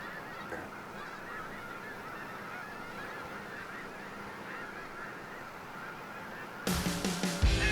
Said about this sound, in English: But look at all these are all mallards.